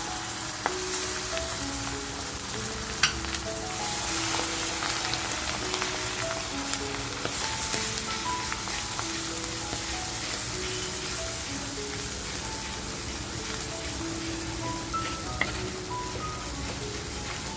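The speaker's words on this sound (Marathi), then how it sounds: "आत्ता जो आपण काळा मसाला करून घेतलाय ते वाटप टाकूया" Roasted black masala paste fries in a pan for a spicy village-style crab curry, giving a soft, even crackling sizzle that runs unbroken, with faint tones ringing in the background and an occasional light knock.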